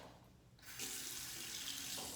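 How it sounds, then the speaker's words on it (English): A tap turns on and cold water runs steadily into a sink, a broad continuous hiss that starts after a brief quiet moment. "Wet your wide stick alum block under cold water"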